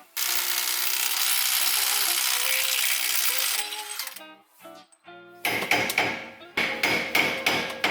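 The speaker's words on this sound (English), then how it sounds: "we're gonna go ahead and remove the one attached to the axle now" A 1 5/16 bolt is worked off a driveshaft yoke at the axle with a ratchet. A long, steady rasping run gives way to broken metallic clicks, then sharp repeated ratcheting bursts close up.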